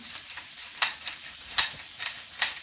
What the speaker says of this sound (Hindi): प्याज डालते हैं, सोते करते हैं, साथ ही लहसुन अदरक डाल देते हैं।